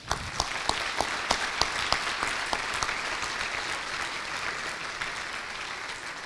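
Audience at an interfaith iftar dinner applauding the Redmond mayor, a brisk round of clapping with a few sharp, rhythmic claps standing out early before the applause slowly thins.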